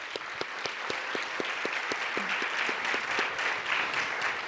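Audience applause for a panel at a digital series premiere event, steady crowd clapping with a few sharp, distinct nearby claps standing out over the general wash.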